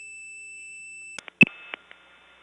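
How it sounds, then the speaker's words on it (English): A vacant level recording on a 1979 Gainesville, Georgia step-by-step telephone exchange: a steady pair of high tones holds for about a second, then breaks into several short clicks and chirps before fading to a faint residual hum. "That was the Gainesville vacant level recording"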